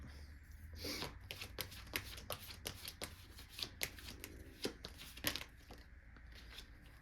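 Tarot cards are shuffled by hand before a draw, giving a soft, continuous, rapid riffling and flicking patter up close. It sits at a low level with no voices.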